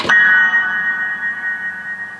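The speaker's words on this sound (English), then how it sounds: "When you press the sustain pedal down, it releases all the dampers off all the strings" A single struck tone on a Yamaha CSP-275 digital piano with the sustain pedal down, ringing on with a shimmering, bell-like sympathetic resonance, slowly fading but still humming at the end.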